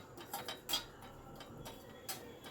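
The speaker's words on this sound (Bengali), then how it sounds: "অনবরত নেড়ে নেড়ে এটাকে আমি একটু রোস্ট করে নিচ্ছি।" Cashews being stirred and roasted in a pan on a gas flame, light metallic scrapes and clinks of a spoon against the pan at an irregular pace, quiet and close.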